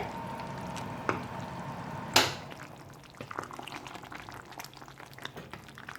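A pot of Bengali mixed vegetable labra bubbles and simmers, with a sudden sharp hiss as hot tempering hits it, then softer steady bubbling and light stirring.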